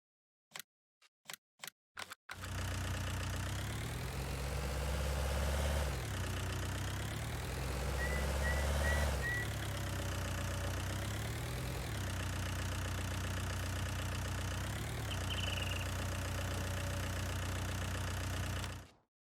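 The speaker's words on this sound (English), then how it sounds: "Tractor." A tractor engine idles steadily in a video game equipment mod, a continuous low mechanical drone with slight shifts in pitch, preceded by a few sharp clicks at the start.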